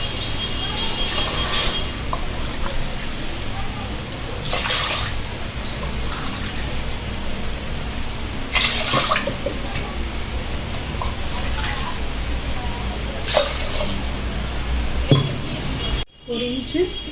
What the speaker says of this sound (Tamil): 4 கப்பு தண்ணி ஊற்றிக்கிறோம்.